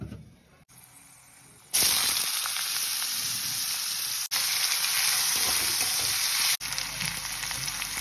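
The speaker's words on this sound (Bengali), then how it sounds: "এবারে এটাকে ভাজতে দেব।" Potatoes and onions frying in a pan for breakfast pasta, a loud steady sizzle that jumps up sharply after a quiet start and runs on with two brief dips, close and alone with no talk.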